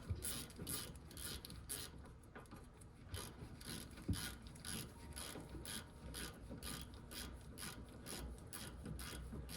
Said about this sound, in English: put your socket back on the ratchet, ratchet it down